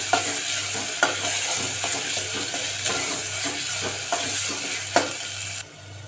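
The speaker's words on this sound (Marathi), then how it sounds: "आता टमाटर टाकून घेऊया आपण। टमाटर आणि मीठ, ते चांगलं रूळ द्यावं लागते," Tomatoes and salt fry with onion in a pan, a steady broadband sizzle broken by a few sharp spatula scrapes and stirring knocks against the pan, with no talking.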